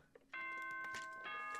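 Announcement chime in the video game Penguinronpa: a bright, loud, sustained multi-tone bell chime rings out clearly after a brief soft lead-in, ringing on without any talking.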